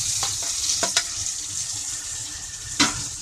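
Tomatoes drop onto fried onions in a pan for a dried fish curry, setting off a steady watery sizzle punctuated by a few sharp taps and clatters, with no talking.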